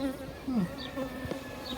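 Honey bees buzz close by around a hive frame set aside as brood supplies, short swelling hums rising and falling through a low steady drone with no talk.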